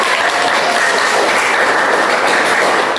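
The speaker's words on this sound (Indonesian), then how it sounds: "Tepuk tangan dulu untuk saya." Students in a classroom clap together in a loud, even burst of applause that stays full and sustained from start to finish.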